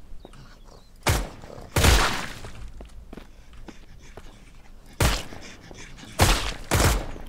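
Gunfire during a base raid in the survival video game Mist Survival: several sharp, loud shots in separate bursts, a pair near the start and a cluster later, with quieter thumps and footsteps between them.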